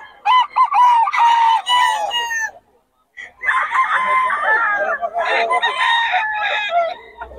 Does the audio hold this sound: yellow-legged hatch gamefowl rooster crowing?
yes